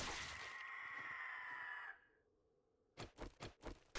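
A chicken in the video game 7 Days to Die gives a loud squawking cry lasting about two seconds, then after a short silence lets out a rapid run of four or five sharp clucks.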